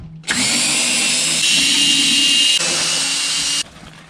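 A power screwdriver spins steadily, loosening Torx screws from the plastic rear bumper of a VW T4 van, a loud continuous whirring motor running for about three seconds with a brief change in pitch partway through, then stopping.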